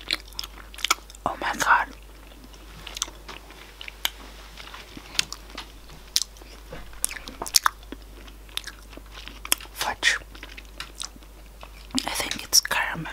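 Caramel fudge is bitten and chewed close to the mic, with sticky, squishy mouth sounds and occasional sharper crunchy clicks coming in uneven bursts, while a person murmurs softly between bites.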